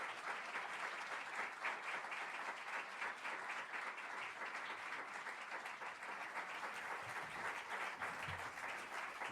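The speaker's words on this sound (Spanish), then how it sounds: "Vamos a recibir con un fuerte aplauso" A large audience at a spiritist congress applauds loudly and steadily to welcome speaker Mauro Barreto, a continuous dense roar of clapping lasting the whole stretch, with faint murmuring near the end.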